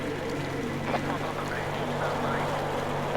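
A boat engine runs steadily in the video game Metro Exodus, a constant low drone under water noise, with voices talking over it.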